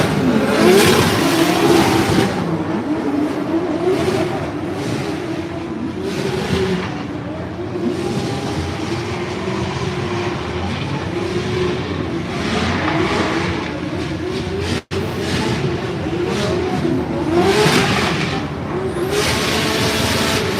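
Formula Drift pro race cars rev hard during warmups at a New Jersey track, engines roaring loud in repeated surging bursts with brief tire squeal, close by and continuous.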